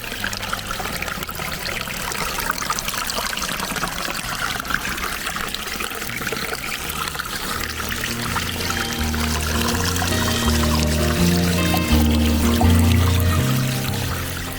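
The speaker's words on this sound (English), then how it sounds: "the occasional trickle of water along a creek" Water trickles and dribbles steadily along a creek outdoors, with a continuous close stream and no voices.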